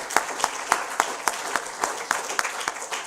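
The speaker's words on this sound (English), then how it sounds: "So we need to clap." An audience at a live-streamed translational medicine lecture on neuroglia claps in a sparse, rhythmic pattern, individual claps clearly separated at a steady pace, fairly quiet and close.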